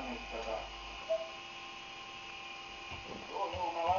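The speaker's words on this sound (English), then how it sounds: "This is a Bedini motor." A small Bedini motor runs with a thin, steady electrical hum and whine, and a brief tick sounds partway through.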